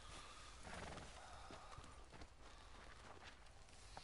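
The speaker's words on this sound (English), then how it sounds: "That's my horse." Horse in the Red Dead Redemption 2 video game: faint hoof clops and a brief whinny-like call at a distance, set against a steady outdoor ambient hiss.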